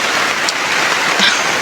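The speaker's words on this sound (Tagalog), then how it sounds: "Ngayon naman, ang lakas ng ulan." Heavy rain pours steadily in a lowland garden where stressed succulents sit in the cold, a dense, even hiss of drops hitting surfaces throughout, with no voices.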